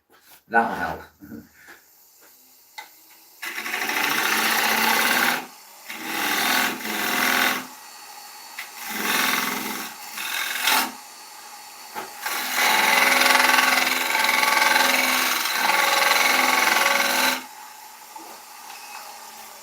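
A wood lathe squares off the tenon on an ash bowl, giving a loud, hissing cutting roar in several long bursts separated by brief gaps. A voice talks during the quieter moments.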